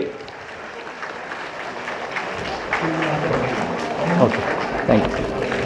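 Audience clapping at a school ceremony, a broad crowd applause building and holding for several seconds, mixed with a voice over a loudspeaker and general hall noise.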